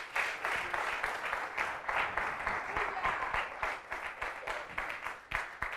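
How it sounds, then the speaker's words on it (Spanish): A church congregation applauds, a steady burst of clapping from many hands at moderate distance, fairly soft and continuous, with faint voices mixed in. "Denle un aplauso al Rey."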